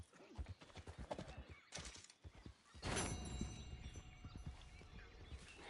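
Horse hooves clip-clop steadily with a loud whinny partway through, all in the Red Dead Redemption 2 western video game, with brief game voices and effects mixed in.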